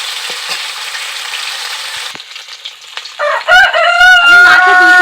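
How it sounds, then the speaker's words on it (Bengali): Rohu fish pieces fry in hot oil with a steady, bright sizzle for about two seconds. A loud rooster crow then rings out nearby and dominates the rest, with the frying fading underneath. "দুটো সাইড একটু কড়া করে ভেজে নেব"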